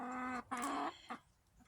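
Pullet hen clucking near a chicken coop, a few close, loud vocal calls in quick succession with a short pause, then a softer final cluck.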